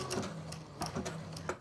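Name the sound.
sewing machine zigzag stitching an appliqué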